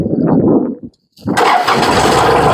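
An ISEKI or KUBOTA farm tractor engine cranks briefly, pauses with a short silence, then catches and settles into a loud, steady close-up running rumble.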